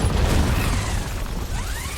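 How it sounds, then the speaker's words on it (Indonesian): A heavy, rumbling grenade blast from the film Hunter Killer fills the clip, with deep low-end boom and crackling debris continuing throughout, loud and close. "Oleg berhasil meledakkan granat yang menewaskan dirinya beserta beberapa pasukan Rusia"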